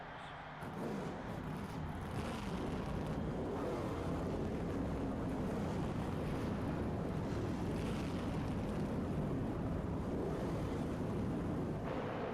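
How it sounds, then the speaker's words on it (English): Race car engines in NASCAR Thunder 2000 fire up together after a brief quiet moment, then hold a dense, steady roar that fills the rest of the stretch without any talking. "Gentlemen, start your engines."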